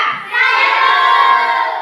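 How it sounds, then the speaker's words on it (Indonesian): Schoolchildren in an elementary classroom break into applause, a dense burst of hand clapping that starts after a brief pause and holds strong and steady. It is close and loud, and nobody talks over it. "tepuk tangan"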